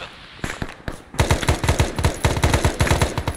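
Rapid automatic gunfire in the military shooter Arma 3, a couple of scattered shots at first and then a loud sustained burst of close bursts with a sharp rhythmic crackle.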